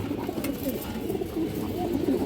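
Pigeons coo in a loft full of high-quality heritage-breed birds, including a black female, as a steady overlapping murmur of low throaty calls continues throughout, fairly close and moderately loud, with no one talking.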